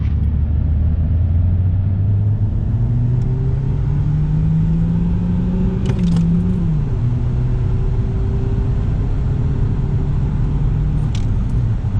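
Car engine held at rising revs for a launch with brake and throttle both applied, a loud steady drone climbing in pitch and then dropping slightly, close and continuous.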